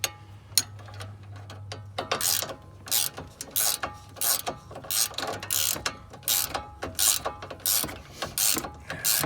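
A ratchet fitted with a 6-point socket tightens a sway bar link on a Dodge Caravan. Short bursts of rapid clicking repeat in a steady rhythm, close and crisp, with no talking.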